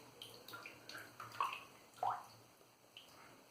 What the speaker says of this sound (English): A bit more water to the brush.